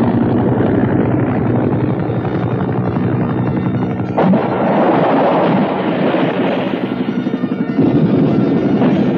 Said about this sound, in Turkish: Helikopter yaklaşıyor.